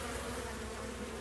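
Yellow jackets and honey bees at a weak hive make a dense, continuous buzzing drone, close and steady throughout the brief moment.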